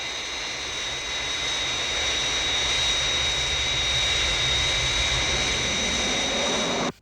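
Fireflash airliner on final approach: a loud, sustained jet roar with a high whine that builds slightly and holds steady, then cuts off abruptly at the end, with no voices.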